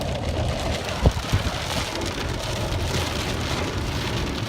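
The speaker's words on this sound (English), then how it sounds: "Look at all that rain." Heavy rain pours steadily during a severe thunderstorm, a dense close hiss of drops on surfaces with a couple of brief louder thumps and no voices.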